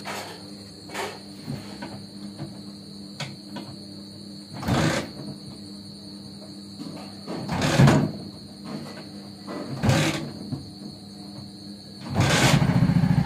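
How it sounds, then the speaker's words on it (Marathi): A motorcycle is kick-started several times, with short thuds and sputters spaced a few seconds apart, until the engine catches and runs steadily at the end. "एमर्जन्सीसाठी कधीतरी किक मारून तर बघू होई."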